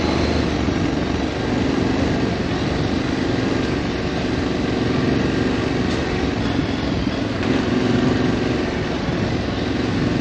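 A motorcycle rides along an off-road trail, its engine giving a loud, continuous, close drone with little change in pitch throughout.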